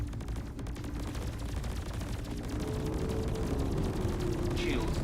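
Ship turrets firing in the space game Star Citizen, two top turrets shooting in a dense, rapid stream of repeated shots over a steady low engine-like drone, continuous and fairly loud throughout.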